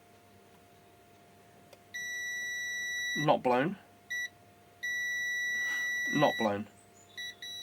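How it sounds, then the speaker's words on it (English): A multimeter in continuity mode beeps while testing a fuse from a Specialized Levo/Kenevo Gen 2 700Wh e-bike battery, giving several steady high tones of varying length, with someone speaking between them. "Meter to continuity mode. Beep beep."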